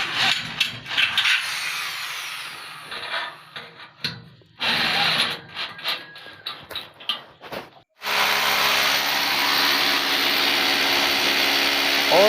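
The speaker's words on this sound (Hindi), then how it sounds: "जैसे कि आप देख रहे हैं कि इसको मैं ड्रिल की मदद से मैं इसको टाइट कर रहा हूँ।" A power drill tightens nuts and bolts on solar panel mounts, with short, choppy bursts of grinding whir followed by a long, steady, loud run of the tool up close.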